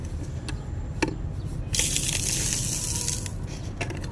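Liquid is poured into a bottle during a science lab experiment, a soft gush that swells partway through and runs steadily, with a few small clicks.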